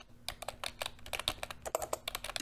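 Steady clatter of keys on a computer keyboard, quick irregular taps close by, with no voices.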